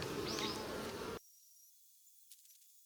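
Japanese honeybees buzz close by at their hive box, a dense hum that cuts off abruptly after about a second, leaving near silence broken by a brief faint rustle.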